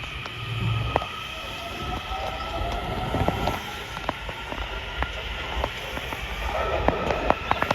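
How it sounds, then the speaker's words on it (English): Metro train passing through Alexandria station, a steady rumbling roll with rhythmic wheel clicks and thumps over the rails and faint high wheel squeal, continuous and fairly close. "There's a metro."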